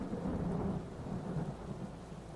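A thunderstorm rumbles low and steady under a constant wash of heavy rain, dense and unbroken for a couple of seconds.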